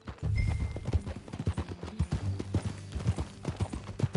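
A horse ridden in the video game Red Dead Redemption 2 trots along in steady, close clip-clop hoofbeats, loud and rhythmic, with no talking over them.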